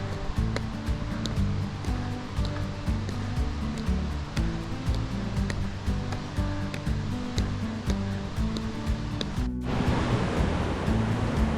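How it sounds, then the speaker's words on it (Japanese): Glacier meltwater river rushing beside a hiking trail near Grindelwald, Switzerland, a steady, loud, close roar of flowing water with no voices. "しばらくは川の横を歩いていきます。"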